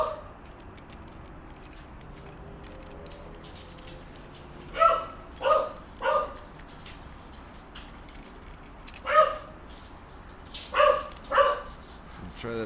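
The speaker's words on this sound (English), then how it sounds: "I think the barking's kind of done." A dog barks in short clustered bursts, a few single barks then pairs, moderately near, over a quiet hum of room noise.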